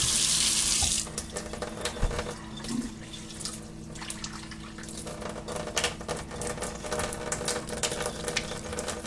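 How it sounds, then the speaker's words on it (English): Water runs steadily from a faucet, a brief loud hiss at first, then a softer continuous stream filling a half cup nearby, in a kitchen. "I'm going to do a half a cup of water."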